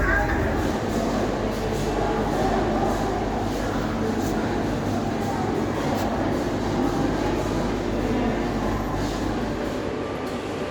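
A Sentosa monorail ride in Singapore: a continuous muffled rumble and low hum of the moving train, steady and close throughout.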